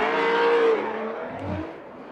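Formula Drift cars at Long Beach sweep through turn 9 with loud engine revving and a sustained tire squeal that fades, then a second car's engine swells briefly nearby before dropping away.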